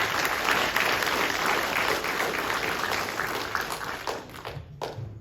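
An audience in a hall applauds at a high school hall of fame ceremony, dense sustained clapping from many hands that gradually thins and fades out near the end.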